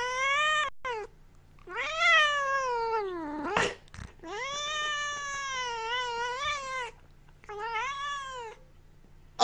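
A cat lets out several long, drawn-out yowling meows with rising and falling pitch, loud and close, separated by short pauses and a brief sharp clatter near the middle.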